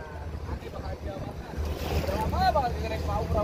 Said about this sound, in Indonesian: lumayan agak bergelombang juga. Arusnya lumayan deras.